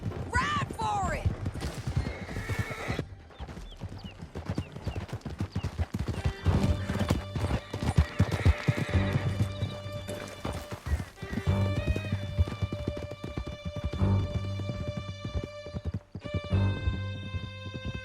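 Several horses galloping hard in a Red Dead Redemption 2 canyon chase, with loud steady hoofbeats, a whinny near the start and gunfire mixed in, with voices over the riding.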